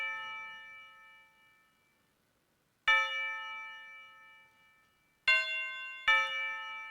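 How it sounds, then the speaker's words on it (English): A simple bell melody in a Philly drill beat follows the root notes: a sustained chime fades out, then three bright struck notes each ring and decay, playing alone with no drums or voices. "But the bell is pretty simple."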